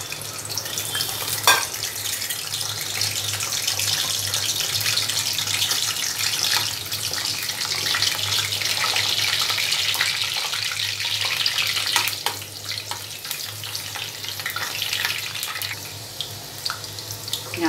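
Garlic cloves cut in halves fry in hot oil in a kadhai, giving a steady, continuous sizzling hiss that stays fairly loud throughout with no talking.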